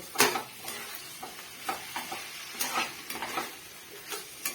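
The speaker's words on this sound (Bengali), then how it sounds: "কাঁচা লঙ্কা দিয়ে আমি পোস্তটা বেটে রেখেছিলাম, এটা আমি এর মধ্যে এখন দিয়ে দেবো। দিয়ে আরেকটু ভেজে নেব" Cauliflower and potato frying in a pan with green chili and poppy seed paste, sizzling steadily while a utensil stirs in repeated scraping strokes, close and moderately loud, with no talking.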